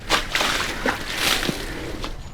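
Water splashing and sloshing in uneven bursts, poured wastefully while washing in a housing society, close and fairly loud with no talk over it.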